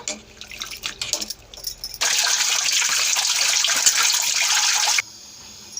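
Ash gourd pieces are rinsed clean under running water, a steady loud rush of tap water and splashing lasting about three seconds before cutting off abruptly, with faint kitchen handling noises before it.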